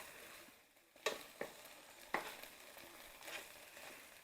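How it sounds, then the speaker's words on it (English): Turkey browning in a pan for an old-fashioned goulash gives a faint, steady sizzle with a few sharp scrapes and taps of a utensil stirring the meat, no voices. "I'm going to brown this a little bit, and then I'm going to add our seasonings"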